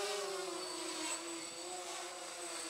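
A twin tricopter drone on a heavy frame hovers and maneuvers at about three-quarter throttle, giving a steady, fairly loud high-pitched propeller whine with a constant buzzing tone and no talk.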